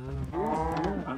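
A cow moos once in the video game Minecraft Skyblock, a loud drawn-out low call lasting about a second, heard alone.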